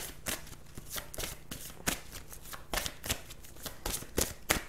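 Oracle cards of the love-angel type are shuffled by hand in a series of close, crisp riffling bursts at an uneven pace.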